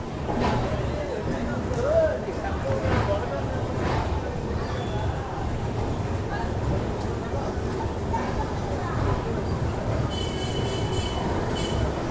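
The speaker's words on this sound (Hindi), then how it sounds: "हमारी आंध्र प्रदेश एक्सप्रेस का डिपार्चर हो चुका है आंध्र प्रदेश के विशाखापट्टनम स्टेशन से" Andhra Pradesh Express pulling out of Visakhapatnam station, a steady rolling rumble of rail cars with faint wheel squeal and a few high tones near the end, while a voice talks over it.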